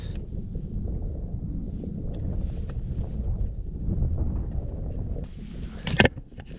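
Wind buffets the microphone at a wild mountain summit camp on Moruisg, a steady low rumbling gust throughout with brief rustles and a sharp bump near the end.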